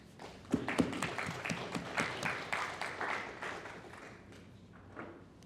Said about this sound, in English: Let's take a moment and have a round of applause for our Somali and Somaliland brothers and sisters.